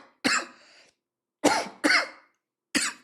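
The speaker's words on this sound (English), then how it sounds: "why are you coughing so much?" Four sharp coughs, close and fairly loud, arrive in uneven bursts separated by silence, the first a bit longer than the rest.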